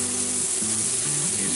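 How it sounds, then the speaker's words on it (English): Curry chicken sizzling in a cast iron Dutch oven while it is stirred, giving a steady, close frying hiss with no talk over it. "Go ahead and just keep stirring this."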